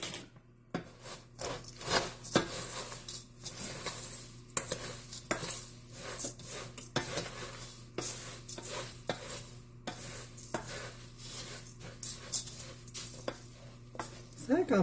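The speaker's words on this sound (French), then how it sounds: "Puis je vais aller juste minimement brasser là, avec la cuillère de bois, que tous les ingrédients secs soient ensemble." Wooden spoon stirring dry cereal-bar ingredients in a bowl, a continuous scraping and rustling with scattered knocks against the bowl, close up, with a voice talking at moments.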